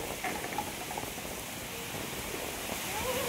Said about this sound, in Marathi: पाऊस मोठा आहे